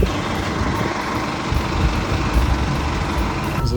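Steady engine drone and road rumble from inside a marshrutka minibus on the move, a dense continuous noise filling the cabin with no speech.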